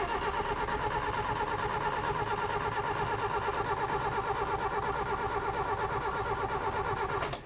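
A Daihatsu F10 engine with no throttle cable cranks on the starter in a fast, even, rhythmic churn that is close and loud and stops abruptly at the end without catching.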